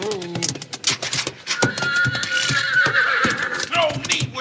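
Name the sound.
horse neighing and hooves clip-clopping in a radio drama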